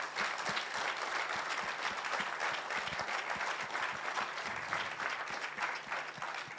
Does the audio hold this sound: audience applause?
yes